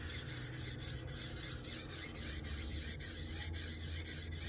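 Steady back-and-forth rasping strokes of a knife drawn across 6-inch sharpening stones on a TS Prof Kadet Pro guided system, a continuous close scraping with regular rhythmic pulses and no talking.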